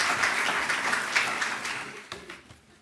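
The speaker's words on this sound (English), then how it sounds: "A round of applause." Audience applause at a School of Dentistry declaration ceremony, a steady wash of many hands clapping that fades out toward the end.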